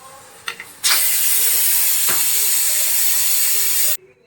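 Pressure cooker cooking lentils lets out a loud, sustained hiss of escaping steam lasting about three seconds, with a couple of brief rattling clicks just before it starts.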